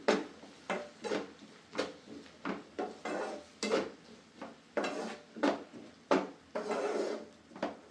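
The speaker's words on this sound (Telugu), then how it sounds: "సాల్ట్ కూడా యాడ్ చేసిన తర్వాత ఒకసారి అయితే మనం మిక్స్ చేసుకుందాం." Small prawns tossed with turmeric and pink salt in a pan for an Andhra-style fry, heard as a quiet series of rhythmic scraping and clinking strokes, roughly a dozen, close up with no voices.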